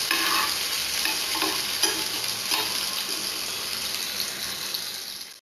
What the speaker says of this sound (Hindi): कटा हुआ टमाटर डाल दें। और उसको अच्छे से भून लें।